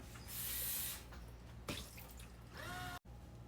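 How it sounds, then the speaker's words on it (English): Water from a tap runs and splashes into a basin at a sink while it is rinsed, with surging bursts, a brief gurgle and dripping, close and moderately loud. "I'm going to take my basin and I'm going to rinse and dry my basin"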